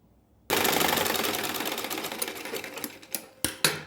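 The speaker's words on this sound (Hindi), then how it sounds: "तो देखिए, ये सीधी सिलाई हमने लगा ली है।" A sewing machine runs a straight seam on a blouse: a sudden start into a fast, close rattling stitch for about three seconds, then a few short bursts as it stops and restarts.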